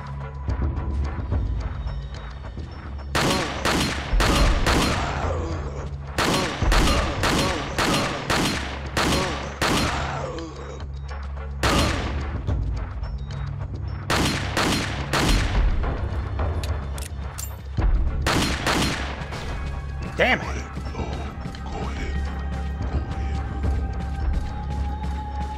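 Gunfire in the video game Resident Evil 4, with loud sharp shots in irregular bursts and single cracks over a low rumbling backdrop, no talking.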